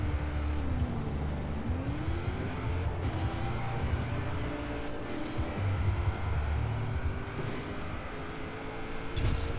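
A tuned car in Forza Horizon 4 launches from about 5000 RPM, its engine droning and climbing through rising revs and gear shifts, steady and moderately loud with no talking.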